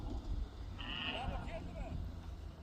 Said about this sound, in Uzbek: Yaylovda hozir ko'pchilik qo'ylar chiqib kelyapti.